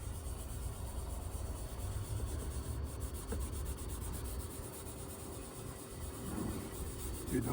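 Rubbing of Nakarai Sabi Tori King rust remover onto a rusty engine valve cover, a steady close scrubbing and scraping texture running continuously throughout without talk.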